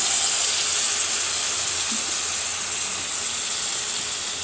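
Tomato paste hits hot cooked masala in a pan for a rajma and potato curry, giving a steady, even sizzle and hiss that carries on without a break, with no talking.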